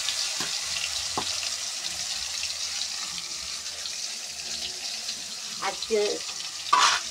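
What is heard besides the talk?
pointed gourd pieces frying in hot oil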